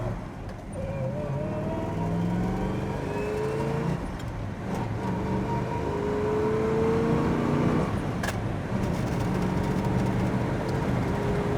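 A 1968 Chevrolet Chevelle SS 396 L-78 engine pulls steadily up through the revs to about 75 mph, rising harmonic tones over constant road roar, loud and close throughout with no talking.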